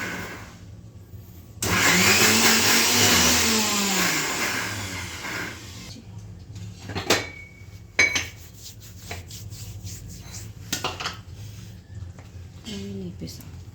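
A kitchen mixer grinder whirs loudly for a few seconds while grinding garlic, then stops; clinks, rubbing and handling noises of pots follow, with a voice speaking over them.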